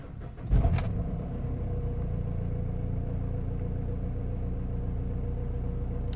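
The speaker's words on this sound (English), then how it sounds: "We're gonna start the car now." A Mitsubishi Shogun with transfer case faults starts up: a brief cranking burst catches, then the engine settles into a steady, close, low idle rumble that continues alone.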